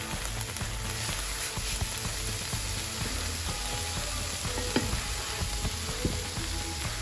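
Vegetables frying in a pan give off a steady, close sizzle that holds dense and even throughout, with faint crackles and no voices.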